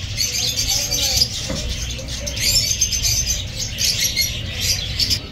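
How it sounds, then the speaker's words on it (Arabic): Lovebirds chirp in a dense, continuous twitter at a Baghdad bird market, with many birds calling at once amid market bustle and people talking nearby. "طيور حب بلوان حلوة ما شاء الله"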